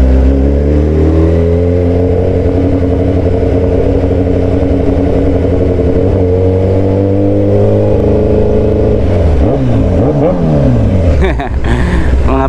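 Loud motorcycle engine idling and creeping in slow-moving road traffic, a steady low hum that rises in pitch with brief revving near the end, with nearby car engines under it; no clear speech.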